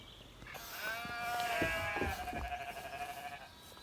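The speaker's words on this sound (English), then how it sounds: "You can hear the sheep." Sheep bleat nearby, several overlapping wavering calls rising and falling, fairly loud against a quiet outdoor background.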